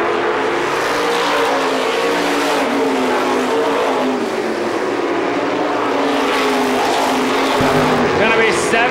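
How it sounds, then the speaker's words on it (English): Loud, unbroken engine roar from 350 supermodified race cars circling an oval track, the pitch rising and falling as cars pass, with a race announcer speaking over the noise. "Mike Caswell sets the pace down the back straightaway."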